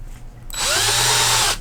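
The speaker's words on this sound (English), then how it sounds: "here's how I drill out the camera" A power drill bores out the camera hole in a Kraken 5 Worx quadcopter frame pod, starting abruptly after a quiet moment and whining steadily and loudly at close range for about a second before cutting off.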